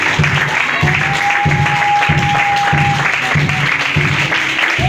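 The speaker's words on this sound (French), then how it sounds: "Battez les mains pour le Seigneur." Congregation clapping in steady rhythm during a church worship service of thanksgiving, loud and continuous, with a sustained sung or voiced tone running over the beat.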